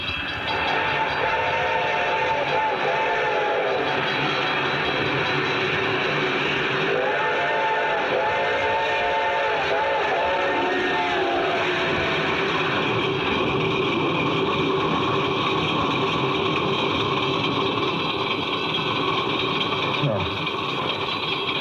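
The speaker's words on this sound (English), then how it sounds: "The train was coming closer. I could hear its bell ringing and the cry of its whistle." An approaching train rumbles steadily nearby while its whistle sounds twice in drawn-out, wavering calls, with its bell ringing, under a constant mechanical roar.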